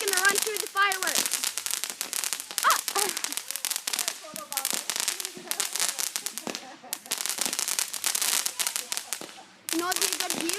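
Firecrackers and fireworks going off in rapid, dense crackling bursts that run almost continuously, loud and close, with people talking and calling out over them.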